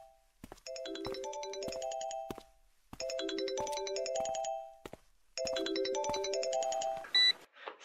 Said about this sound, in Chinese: 小怀，你怎么才接我电话啊？